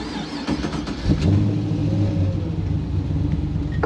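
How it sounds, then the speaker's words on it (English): A 1972 Holden HQ SS fitted with a 600 hp LS3 crate V8 rumbles at idle, then revs up in a loud, close blip and settles back into a deep, steady idle. "a 1972 HQ SS with an LS3 crate motor jammed in under the bonnet"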